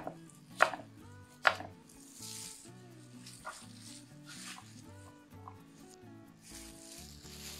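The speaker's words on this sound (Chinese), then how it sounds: "再切成薄片" A knife slices peeled Chinese yam into thin slices on a board, with two sharp, loud chops followed by softer cutting taps over quiet background music.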